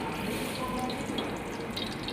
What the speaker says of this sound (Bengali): তো এখানে এই অয়েল ঢেলে দেবো ফার্স্টে।